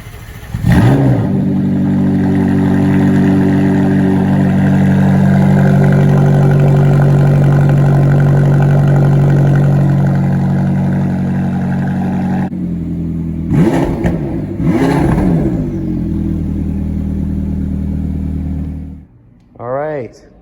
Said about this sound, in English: All right, we're about to start the McLaren GTS.